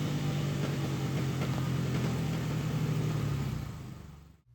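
A KTM 450 EXC motorcycle engine on a dyno winds down on deceleration, a steady mid-pitched drone holding for several seconds before fading away and cutting out.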